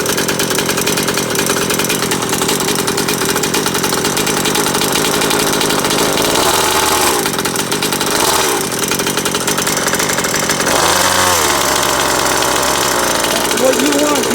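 A Rovan Baja Max T RC car's small gas engine running loud and close, a steady buzzing idle with a few throttle blips rising and falling, while someone talks over it.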